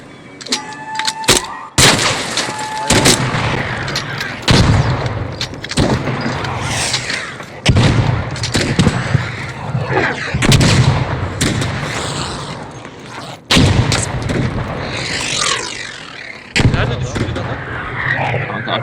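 Gunfire and booming blasts in the video game Arc Raiders, with repeated sharp loud cracks and rumbling impacts scattered across a continuous noisy battle, mixed with talk from players.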